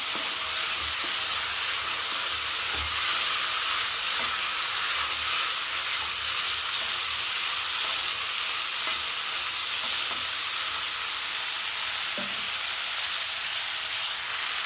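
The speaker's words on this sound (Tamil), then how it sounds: "இப்போ நம்ம இந்த கருவாட்டை சேர்த்துக்கலாம்" Peeled dry fish frying with sautéed tomatoes in a pan for karuvattu kulambu, a loud, steady close sizzle with occasional stirring scrapes, no voices.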